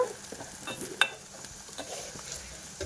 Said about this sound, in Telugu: అల్లం వెల్లుల్లి పేస్ట్ వేసుకున్న తర్వాతనైతే పచ్చివాసన పోయేంత వరకు మంచిగా ఫ్రై చేసుకోవాలన్నమాట